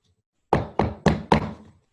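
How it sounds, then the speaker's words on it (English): Four heavy, evenly spaced knocks pound on a wooden door upstairs over a saloon, loud and close, with silence before and after. "and pounded on the door."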